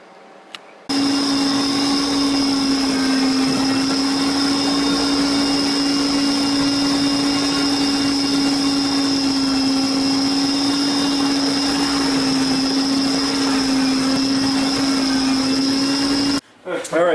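A steady, loud central vacuum motor drones continuously with a strong low hum and high whine, sucking up debris, starting abruptly and cutting off near the end.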